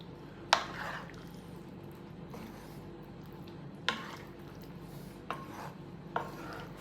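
Pasta bake with pecorino cheese and ricotta balls being mixed and folded in a pan, with a few sharp utensil taps against the dish over a soft, steady scraping and stirring.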